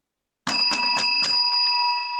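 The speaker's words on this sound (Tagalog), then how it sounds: "Kapag narinig niyo po yung bell na yan" A small bell sounded as a signal during an online talk on managing stress, struck in about four quick rings that leave a bright sustained ringing tone, close and alone after a moment of silence.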